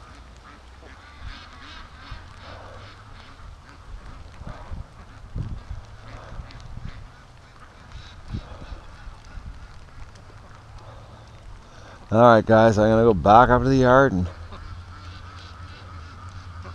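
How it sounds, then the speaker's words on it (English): Geese honk loudly in a close, rapid cluster near the end, after a long stretch of someone talking over quiet outdoor yard ambience with ducks about. "It's all geese that are up there too."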